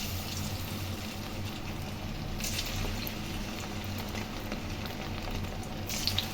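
Egg 65 masala pieces frying in hot oil, giving a steady, close bubbling sizzle that runs unbroken throughout with small surges of crackle.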